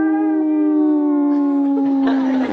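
A dog gives one long, loud, close howl on a steady pitch that slides slightly lower as it goes, rough breathy noise creeping in toward the end.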